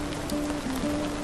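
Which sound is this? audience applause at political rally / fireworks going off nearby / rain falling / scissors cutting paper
rain falling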